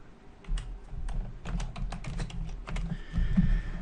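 Typing a password on a computer keyboard: a quick, uneven run of close, crisp key clicks, then a short pause and one more tap, alone without talk.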